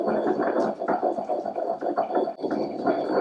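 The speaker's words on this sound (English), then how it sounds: "give it a couple of scrapes to make sure it's all back in the centre of your mortar, and then just keep grinding" A pestle grinding garlic into a paste in a mortar, a close, rhythmic rumbling churn with repeated scraping strokes running steadily throughout.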